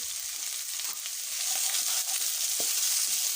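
Chopped onions frying in hot oil in a karahi pan for a potato karahi, giving a steady, close broadband sizzle that swells slightly louder midway, with a few faint clicks of stirring and no talking.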